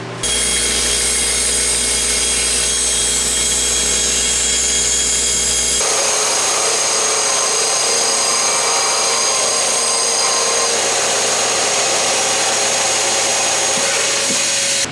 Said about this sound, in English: what I'm going to do is take the bandsaw and cut loosely around the edge